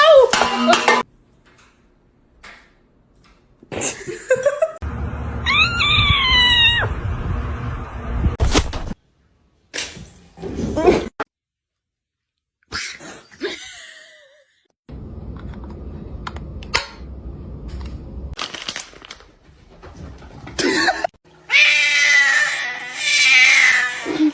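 A cat lets out several loud, drawn-out meows and yowls in separate bursts, with quiet gaps and some clicking noises in between.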